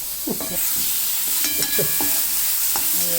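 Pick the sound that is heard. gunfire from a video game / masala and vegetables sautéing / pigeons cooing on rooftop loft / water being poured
masala and vegetables sautéing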